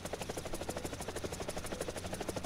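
A helicopter in the War Thunder combat game thrums steadily, its rotor chopping in a fast, even pulse throughout with no talk over it.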